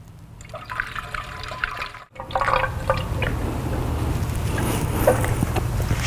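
Coolant from the radiator expansion tank of a 2016 Chevy Camaro trickles and splashes out through the vent hole, a close, steady watery pour after a brief pause, with small drips and gurgles.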